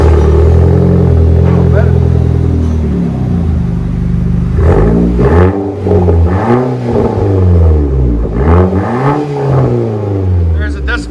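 A 2017 Nissan Sentra NISMO fitted with a 2J Racing exhaust revs loudly and close, the engine rising and falling through repeated throttle blips over a steady idle rumble.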